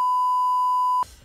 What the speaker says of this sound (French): Je mettrai un bip au montage